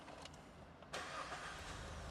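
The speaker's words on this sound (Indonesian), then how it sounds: "Nah, sekarang kita starter mesinnya." A Mazda CX-3 Pro 2.0 engine starts up, a brief crank followed by a steady smooth idle, close by with no talking.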